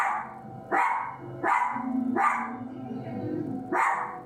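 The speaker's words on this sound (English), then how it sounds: "one dog was barking" A dog barks five times at a steady pace, each bark loud and close, with a low background hum running underneath.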